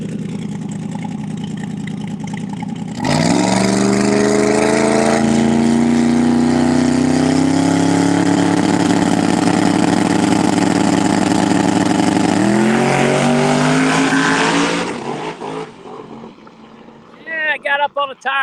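A drag race car launches hard at Empire Dragway and its loud, close engine climbs steadily in pitch through several gear changes before backing off and fading, with voices heard before and after the run.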